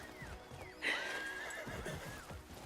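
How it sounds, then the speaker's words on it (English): A horse in the open-world game Crimson Desert whinnies loudly mid-clip while its hooves clop steadily along a road beneath the call. "Now I'm on a horse and I'm going down the road."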